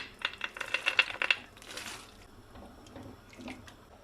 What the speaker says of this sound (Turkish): İnciri, üzümleri, fındığı, bademi yıkadım. Şimdi bunları da ilave ediyorum.